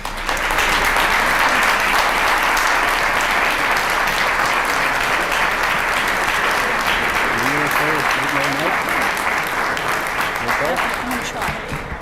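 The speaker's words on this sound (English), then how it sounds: "take a well-deserved round of applause from everybody" At a sports hall of fame induction dinner, the crowd gives committee members a long, sustained round of applause, full and steady throughout, with a few voices and a brief tonal murmur rising beneath it.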